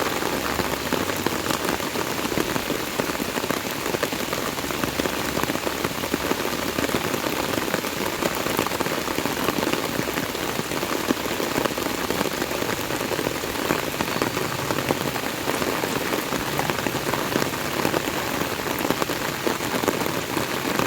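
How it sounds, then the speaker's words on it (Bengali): Heavy rain falls steadily outdoors around a garden, a dense, unbroken patter and hiss without pauses. "বৃষ্টির মধ্যে ঘাস কাটা বসতে হবে। আজকে ভালোই বৃষ্টি হয়েছে।"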